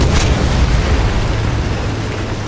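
Deep booming blast of a tank gun firing in the War Thunder video game, a heavy low burst at the start that rolls into a long rumbling decay, loud and close.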